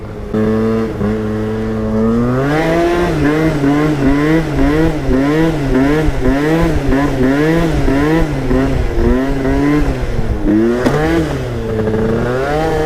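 Yamaha Neo's 70cc scooter ridden and thrown sideways through a corner, its small engine buzzing loudly and rising and falling in pitch with repeated throttle pulses, close to the rider.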